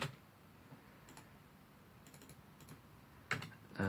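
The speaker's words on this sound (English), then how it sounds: "And hopefully I can type better" Faint computer keyboard typing, a few scattered soft key clicks and short bursts spread over a few seconds with quiet gaps between.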